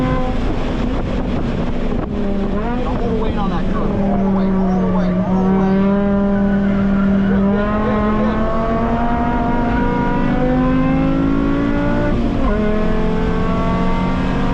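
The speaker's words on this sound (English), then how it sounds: "naturally aspirated 5-cylinder with the 6-speed swap. Did really well, ripping around in second and third gear" A naturally aspirated five-cylinder MK5 Jetta race car with a six-speed swap drives hard on a short track, its engine droning loudly and rising through the gears under strong wind noise, with a voice talking over it.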